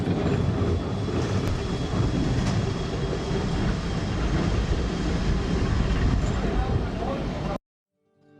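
A steady, loud rumble of a tourist mountain train running continuously near Interlaken, with a broad mechanical roar that cuts off abruptly near the end.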